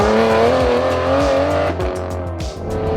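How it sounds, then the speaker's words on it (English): An Aston Martin V12 AMR, one of 100 built, drives on the road with its V12 engine droning loudly and steadily up close, pitch rising through a gear before a shift. "getting out in the road in the V12 AMR"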